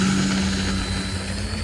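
An E-flite Turbo Timber RC plane's electric motor and propeller give a steady, loud, close whine and buzz with a strong tonal hum throughout, with no talk.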